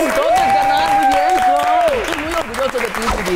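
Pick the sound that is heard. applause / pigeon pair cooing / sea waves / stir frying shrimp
applause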